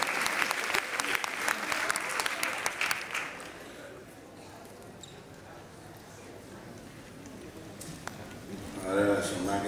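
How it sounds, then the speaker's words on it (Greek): A live audience breaks into loud applause that fades away after about three seconds, leaving quiet room noise and faint voices before a brief swell returns at the end. "Ένα χειροκρότημα δυνατό."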